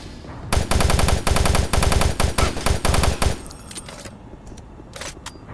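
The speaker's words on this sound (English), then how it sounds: "Got a couple of shots in there a second time." Rapid bursts of automatic gunfire from the video game Doom 3, a loud sustained volley of evenly spaced shots for about three seconds, then a few scattered fainter impacts and clicks.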